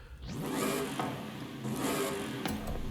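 Engine of a widebody drift wagon in the Forza racing game, 978 horsepower and rear-wheel drive, revving up in two rising surges with a loud, raspy tone.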